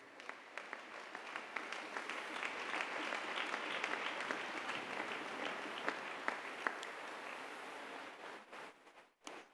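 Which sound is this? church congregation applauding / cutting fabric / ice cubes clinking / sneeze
church congregation applauding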